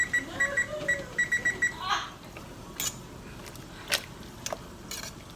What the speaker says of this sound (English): set my timer to 2 minutes